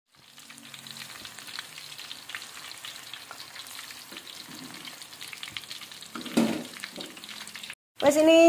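Mung bean peanut crackers (peyek) fry in hot oil with a steady, soft sizzle, a brief stir and clatter near the end, and faint background noise.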